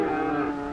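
Hereford and mixed Brahman cattle low and moo in one steady, loud bellow, close by, during loading of market-bound cattle onto a 1949 Chevrolet truck.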